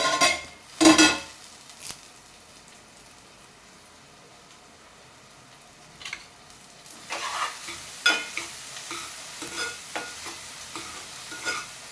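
Onions frying in a pan on a home stove give a soft, low sizzle. Occasional sharp scrapes and clinks from a utensil stirring them come in bursts near the start and again toward the end.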